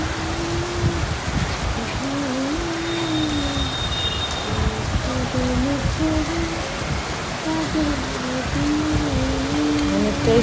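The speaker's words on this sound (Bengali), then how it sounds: "এত বৃষ্টি হচ্ছে যে চারিদিক ঝাপসা হয়ে যাচ্ছে বৃষ্টির তেজ" Heavy rain pours outside a window in a continuous loud, dense hiss throughout, with a tonal hum and a short faint whine layered underneath and no one speaking.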